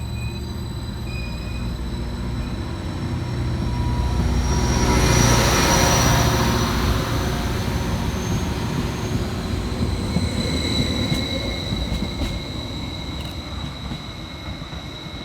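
A Transport for Wales Class 231 diesel multiple unit passes through Ystrad Mynach station with a loud, close rumble of engine and wheels, peaking mid-pass. Sharp wheel squeals and tonal whines linger as it rolls on.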